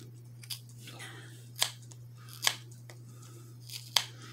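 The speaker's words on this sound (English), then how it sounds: "Now I'm going to go on this side and cut this side." Scissors snip through yarn several times, sharp crisp cuts spaced about a second apart over a low steady hum.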